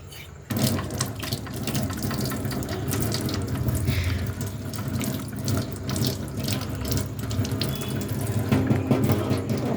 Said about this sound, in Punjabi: ਲੋ ਜੀ ਆਪਾਂ ਨੂੰ ਇੱਥੇ ਧੋ ਲਈਏ ਟੂਟੀ ਨੂੰ ਛੱਡ